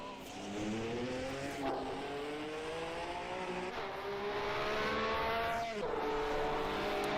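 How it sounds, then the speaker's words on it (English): A Ferrari 312 racing engine in a sim racing game of the 1967 Formula One season at Mount Panorama, revving high and climbing through gears with clear shifts, loud and close, with no talk over it. "Lovely sounding Ferrari 312."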